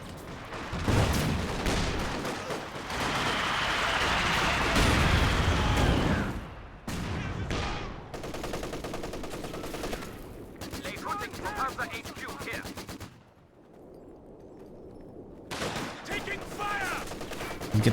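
Bursts of machine gun fire in a multiplayer video game match, loud at first, then broken into choppy rapid volleys with gaps of quiet and other battle noise.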